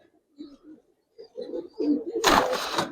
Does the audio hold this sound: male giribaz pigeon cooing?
yes